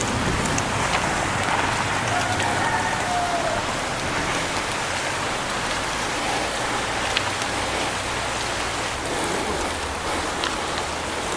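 Steady light drizzle hisses over a motorcycle group ride on the Yagyagan-Ampusa-Asin route, a continuous broadband wash of rain with a low rumble of wind and engine beneath, constant and fairly loud throughout.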